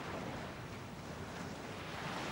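Ocean waves on a shore wash as a continuous broad roar with some wind noise mixed in, steady and fairly loud throughout, with no talking.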